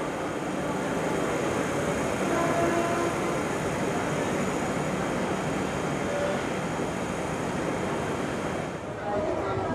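The Ranchi Vande Bharat Express leaves platform 19, heard as a steady, loud broadband rumble of rolling train noise that stays constant throughout, with no voices.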